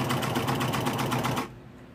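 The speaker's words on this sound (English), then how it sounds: "I'm going to sew 2 of these together." A sewing machine stitches two quilt blocks together, a fast, rhythmic needle chatter running close and steady for over a second before stopping abruptly.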